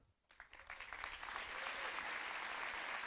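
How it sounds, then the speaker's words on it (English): An audience at the Denver Startup Week kickoff breakfast breaks into applause, with clapping swelling quickly from silence to a full, sustained round of many hands. "Let's give them all a big applause."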